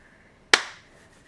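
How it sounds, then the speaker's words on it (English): A single sharp clap rings out once, loud and close, with a short decaying tail in an otherwise quiet room. "Okay, you can just clap now."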